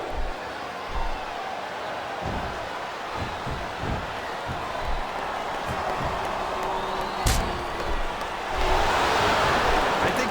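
Wrestling arena crowd at a WWE Unforgiven 2006 match between Carlito and Randy Orton, a steady roar of reacting fans heard from a distance, swelling louder near the end with a few sharp impact-like thuds.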